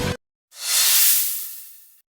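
A single burst of steam hissing, rising quickly and then tapering off over about a second and a half, heard alone after a brief sharp noise.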